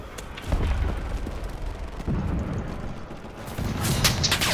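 Repeated heavy booms and rumbling blasts of artillery shells exploding in the game Enlisted, with a mechanical clatter between them and a dense low roar throughout.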